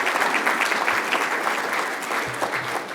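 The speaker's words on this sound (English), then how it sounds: "That's an applause line." An audience claps steadily at an HBCU state-of-the-address speech, a dense, even wash of applause that fills the whole moment without a voice over it.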